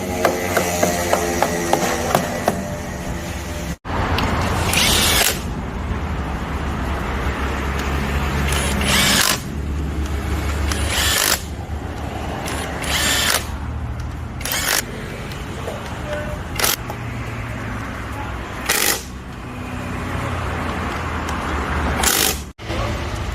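A power tool whirs and rattles in repeated short bursts, driving bolts into a Toyota automatic transmission, with loud workshop clatter and mechanical knocks between the bursts.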